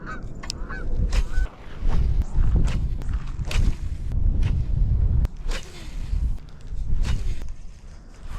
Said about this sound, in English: Oh, there's 2 geese coming in.